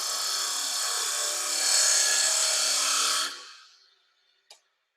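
Turning tool on a wood lathe scraping a bead into a spinning workpiece, a steady loud rasping whir for about three seconds that swells slightly, then fades out as the tool lifts, followed by one short knock.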